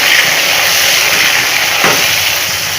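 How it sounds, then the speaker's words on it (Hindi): Chopped onions and tomatoes fry in hot cooking oil, giving a loud, close, continuous sizzle with a brief stir near the end. "1 कप प्याज, इसको फ्राई कर लेंगे। प्याज को फ्राई करने के बाद इसके अंदर 2 से 3 टमाटर काट के मैंने ऐड कर दिए।"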